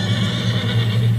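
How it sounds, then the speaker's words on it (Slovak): A horse whinnies loudly in a steady drawn-out neigh over a low rumbling bed, part of a radio drama sound effect of a rider galloping along a road. "Niekto cvála po ceste."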